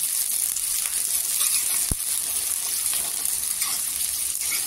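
Sliced onion and mixed vegetables fry for Indian street-food Schezwan noodles, a continuous bright sizzle with one sharp knock midway and no talking.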